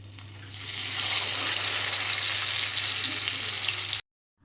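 Fish sizzles loudly in hot oil in a pan, a steady dense frying hiss that swells in after a moment and holds close and constant before cutting off abruptly.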